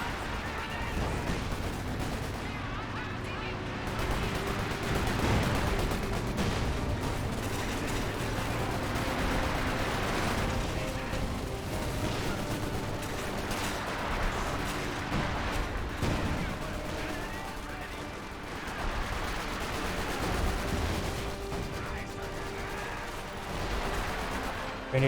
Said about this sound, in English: These grenades take a bit of a beating from those mortars.